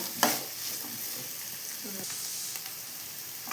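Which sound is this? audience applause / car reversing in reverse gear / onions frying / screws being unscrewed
onions frying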